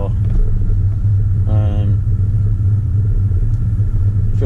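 A car engine hums low and steady at an even, smooth idle the whole time, with a brief higher whine partway through and someone speaking over it.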